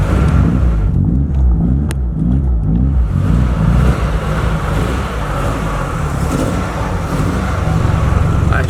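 An old car with about 300,000 miles idles and revs as it is driven onto a lift, a loud, close, rough engine rumble with a wavering pulse early on, then a steadier drone.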